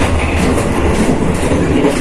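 A Majapahit economy class train runs on its rails with a constant loud rumble and dense rattling, heard from inside the carriage with no talking.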